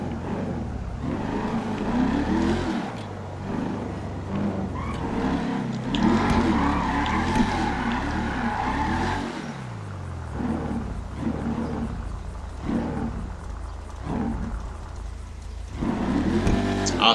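A donk car in a racing video game spins its tires and slides, making a continuous loud engine roar with rising and falling revs, squealing tire skids and rough scrubbing noise over the whole stretch, with no voices.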